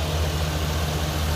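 A 2015 Chevrolet Silverado 2500 HD Z71 with a 6-liter Vortec V8 idles, a steady low, even rumble heard up close without any talking.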